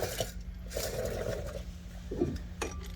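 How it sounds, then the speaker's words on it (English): An impact wrench gives a few short, quick bursts to run in the brake rotor retaining bolt on a 2019-or-later VS30 907 Sprinter 2500 front hub. The brief buzzing pulses are close by, with a longer burst in the middle and no talking. "Just a couple of quick puffs like that with the impact, and that rotor is back on the hub"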